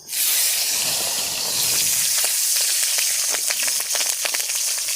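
Slit green chilies hit hot mustard oil tempered with nigella seeds, bursting into a loud hiss that settles into a close, steady sizzle with crackling spatters.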